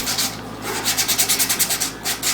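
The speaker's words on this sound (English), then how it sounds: "So probably I'm just going to try to sand these out." Sandpaper scrubbing scratches out of a Telecaster electric guitar body, a close, loud rhythmic rasp of quick back-and-forth strokes, about a dozen in a steady run.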